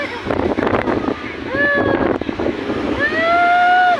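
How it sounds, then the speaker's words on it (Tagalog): Wind roars and buffets the microphone outdoors, with splashing water and a high whistling tone in the background. "sarap ng hangin"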